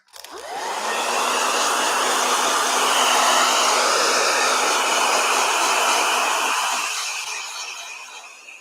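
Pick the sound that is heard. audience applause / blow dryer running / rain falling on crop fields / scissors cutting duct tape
blow dryer running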